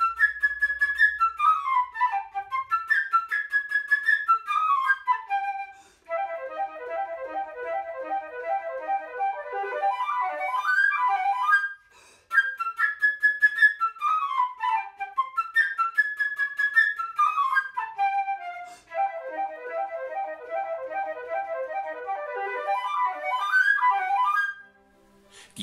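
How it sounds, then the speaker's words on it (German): Solo flute playing the chirping, whistling bird theme from Peter and the Wolf, bright rapid runs and trills in repeated phrases, clear and close with no voices. "Das hörst du besonders gut von der Querflöte."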